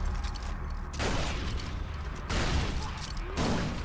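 Grenade explosions and gunfire in Far Cry 4, several heavy bursts of blast noise spaced about a second apart over a rumbling game background.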